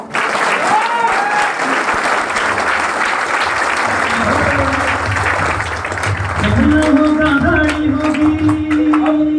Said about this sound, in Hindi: ताली बजाओ दे यार।